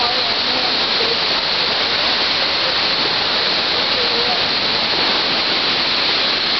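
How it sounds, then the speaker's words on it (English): Heavy falling water of Whatcom Falls in Bellingham roars steadily and close, a dense unbroken rush with no other sounds standing out. "Quite a waterfall coming down here."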